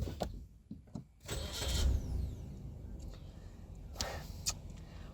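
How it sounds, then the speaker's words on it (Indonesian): Suzuki Baleno automatic from 2019 starting up: a brief crank and catch that settles into a steady idle hum, fairly close, with no talking. "sekarang mari kita nyalakan mobil ini dan kita dengarkan raungan mesinnya"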